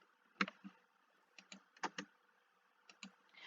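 Keys on a computer keyboard are tapped to type a chat command in a game. A few quiet clicks fall in small clusters with short pauses between them.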